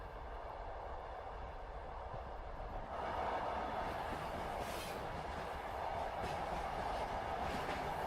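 A night train runs on rails in winter, giving a soft, continuous rolling rumble heard from inside the carriage, with faint rhythmic wheel clatter.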